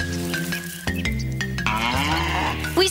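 A cartoon cow from the Super Mario Bros Super Show lets out a drawn-out moo that bends upward in pitch, loud and close against background music, with no talking.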